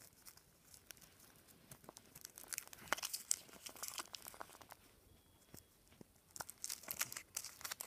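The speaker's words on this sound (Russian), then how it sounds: "Я не хочу рвать, поэтому я буду открывать аккуратно." A Kinder Masha and the Bear chocolate ball has its foil wrapper slowly and carefully peeled open, with soft crinkling and small tearing rustles close by, rising to a busier patch of crackles near the end.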